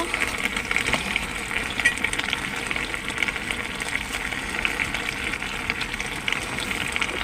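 Masoor dal (red lentil) fritters fry in oil with bottle gourd greens while being stirred, giving a steady, close hiss and sizzle that continues unbroken throughout.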